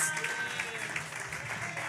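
An audience claps at a community outreach gathering, a faint, steady patter of applause that holds throughout the short stretch.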